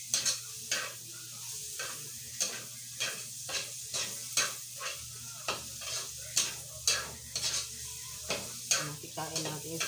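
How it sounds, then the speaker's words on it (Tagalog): Pork fat renders in a hot pan for stir-fried pork, with a constant sizzling hiss broken by regular spatula scrapes about twice a second, close and moderately loud. "Pinapamantika ko lang po para mabuwas-buwasan ang mantika ang taba."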